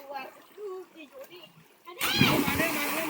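A person does a backward jump into a small natural water pool (kund), making one loud splash followed by sloshing and churning water, after a stretch of children's voices chattering nearby.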